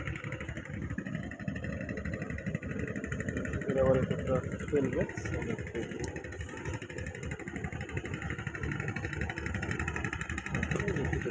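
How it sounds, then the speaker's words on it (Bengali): A sand-dredging trawler's engine drones steadily and loudly nearby on the Padma river, a continuous mid-pitched rumble running under brief talk throughout. "পাশে যে বালু তোলা ট্রলারের কারণে এত শব্দ হচ্ছে।"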